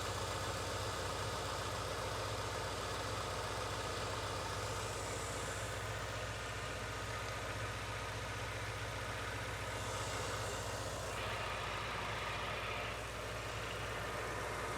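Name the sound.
Subaru Impreza GC8 engine idling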